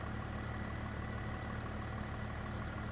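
Tractor engine idling steadily in Farming Simulator 25, a constant low rumble with no breaks or talk over it.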